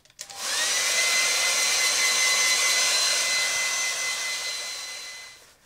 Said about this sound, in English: you'll not have to watch me as I wield my hairdryer